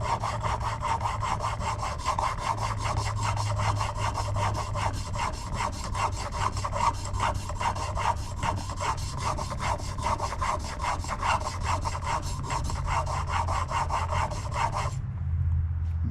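An antique chisel edge rubbed steadily back and forth on a 1200 grit sharpening stone, a continuous close scraping rasp with fast even strokes that stops abruptly near the end.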